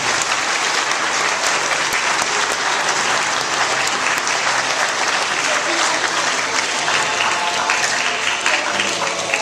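An audience at an evening meeting applauds a student leadership class with loud, dense, sustained clapping that holds steady from start to finish, a close crowd with no pauses.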